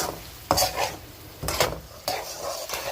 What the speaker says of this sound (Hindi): इसमें हम ये सोया सॉस डालेंगे, 2 टीस्पून सॉस डालेंगे। अब हम इसे मिक्स करेंगे।